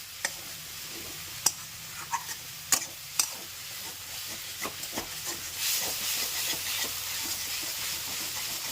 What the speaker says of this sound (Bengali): ভাজা ভাজা করে নামাতে হবে।